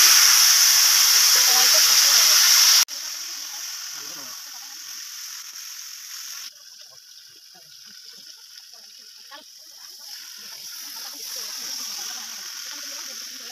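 Boiled potatoes go back into a hot kadai to crisp, giving a steady close hiss that is loud for the first few seconds, then drops to a softer, continuous sizzle with no talking.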